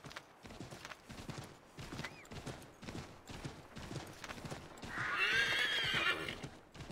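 A horse in Assassin's Creed III Remastered gives a loud, rising whinny over a run of clip-clopping hooves, with rhythmic hoof beats and rustling leading up to the neigh near the end.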